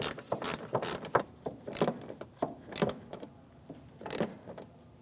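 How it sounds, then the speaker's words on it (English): Close ratchet clicks in quick irregular bursts with short pauses, a hand ratchet with a 10mm socket snugging a bolt on a front bumper bracket in the fender well of a 2016-2025 Chevrolet Malibu. "then I'll put my ratchet on. And I'm just going to snug it right up."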